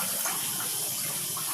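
A steady, close rush of tap water pours into a drum, filling it without pause and with no voices.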